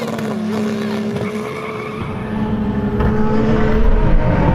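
Lamborghini and Nissan GT-R launching in a drag race, a loud sustained engine roar rising in intensity as the cars accelerate, with a steady tonal drone and building rumble.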